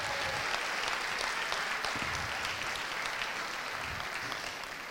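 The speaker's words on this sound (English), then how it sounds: "Current TAs, round of applause for this superstar team." A steady round of applause from an audience for a student team at a university case competition finals, continuous and even throughout, heard at moderate distance without speech.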